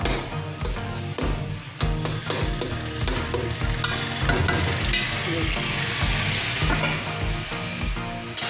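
Keema (minced meat) frying and sizzling steadily in a pan, a loud continuous crackle throughout with occasional stirring clatter, no talking.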